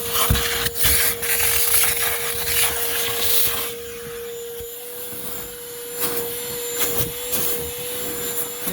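A Ridgid dual 18-volt HD0918 cordless vacuum running with a loud steady whine and a high constant tone, its pitch and roar dropping midway, close up and with no talking.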